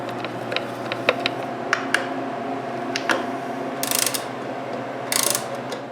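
A clock's hour-striking mechanism being fitted into a walnut clock case gives off scattered mechanical ticks and ratcheting clicks over a steady hum, with two brief brighter rasping bursts near the end.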